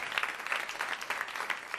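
Audience applause at a stand-up comedy show, a steady patter of many hands clapping at moderate, even loudness for a short stretch, with no voices over it.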